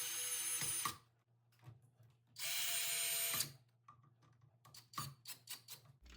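A power driver runs screws into a Kwikset Polo interior door knob in satin nickel during installation, giving two loud whirring bursts of about a second each, then several short lighter clicks and taps.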